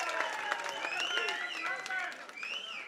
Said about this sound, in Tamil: பலமான கரகோஷம் மக்கள் நாயகனுக்கு